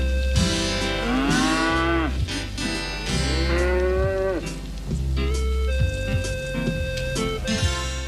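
Cattle moo repeatedly, long drawn-out calls overlapping one another, close and loud over a steady low background.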